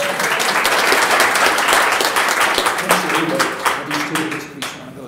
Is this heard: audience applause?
yes